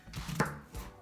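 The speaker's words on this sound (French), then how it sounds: "Alors maintenant qu'on a épluché les pommes, il va falloir les couper en deux" A knife cuts a peeled apple in half on a board for an apple tart, giving one sharp, close chop amid quiet handling noises.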